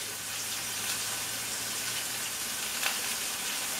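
Pork loin browning in a pan brushed with olive oil, with fresh sage and rosemary, gives a faint, steady sizzle and hiss that runs evenly throughout, with one small crackle near the end.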